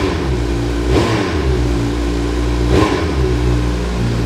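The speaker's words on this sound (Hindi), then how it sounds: "सो इसको सिंगल प्रेस में बाइक स्टार्ट हो जाती है।" A Suzuki superbike with smart ignition idling with a steady, close engine note, blipped twice for short sharp revs about two seconds apart before settling back; no one speaks.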